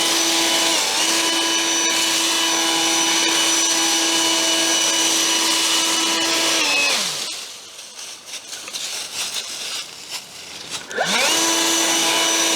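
A leaf blower whines loud and steady with a sustained tone for about seven seconds, cuts off into a brief lull, then spins back up near the end.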